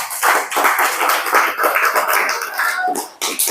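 A group applauds a boy named Bima in a classroom gathering, a dense, continuous burst of many hands clapping close by for several seconds with no talk over it.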